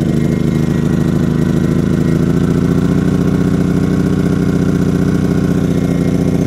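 A Generac iQ2000 portable generator with a failing, fuel-starved engine runs steadily near the microphone, a continuous mid-pitched drone with an even throbbing pulse and no pauses.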